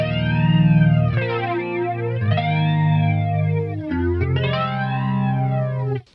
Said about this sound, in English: to change that to a flanger,